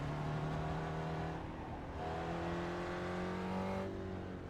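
A Mazda MX-5 race car engine at full throttle in the iRacing simulator on the Okayama circuit, droning steadily with rising pitch through the gears, close and continuous with no talk.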